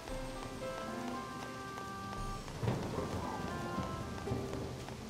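Steady rain falls in Harvest Moon: Animal Parade, a dense even patter with a brief heavier swell near the middle, playing alone beneath light game music tones.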